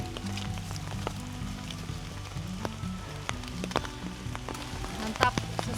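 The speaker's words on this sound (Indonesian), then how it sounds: "Dari pos 3 sampai sekarang masih hujan dan makin gelap." Rain falling on a mountain trail up Mount Slamet via Penakir, a steady soft patter and hiss at a moderate distance, scattered drop ticks over it and a low background hum.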